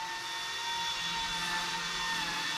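A small Eachine E120 RC helicopter's rotor whines steadily at high pitch as the throttle is raised, a continuous close buzzing with no speech.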